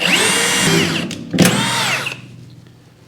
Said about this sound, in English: So I'm just gonna re-drill them, one right here.